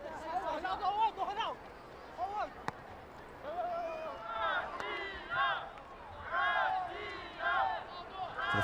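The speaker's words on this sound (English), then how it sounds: "For the first time, we hear the Brazilian fans in the crowd." Brazilian supporters in the stands at a London 2012 Paralympic 7-a-side football semifinal against Russia, a mass of chanting and shouting voices rising and falling across the open-air stadium in uneven bursts.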